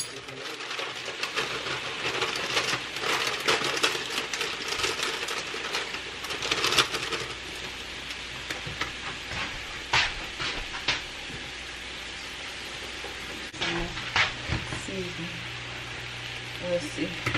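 Brussels sprouts are washed under a running tap. A steady close hiss of water runs throughout, with small knocks and rattles as the sprouts are moved about.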